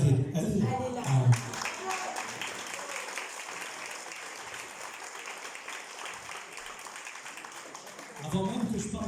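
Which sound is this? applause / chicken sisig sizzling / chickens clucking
applause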